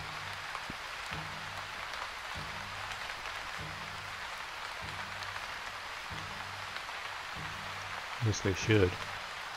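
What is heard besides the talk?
rain falling in a video game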